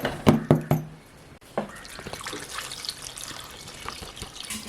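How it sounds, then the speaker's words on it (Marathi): Water is poured from a vessel into bharangi greens cooking over a village wood-fired stove, a short splashing pour after a few sharp knocks, close by, with no voices. "साधारण भाजी आहे तेवढं पाणी टाकायचं."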